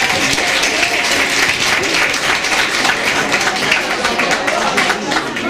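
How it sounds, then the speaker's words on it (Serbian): A crowd gives sustained, loud, dense applause throughout a Christmas and New Year cocktail party held by a sports society, with no break in the clapping. "Tako da vas molim jedan veliki aplauz."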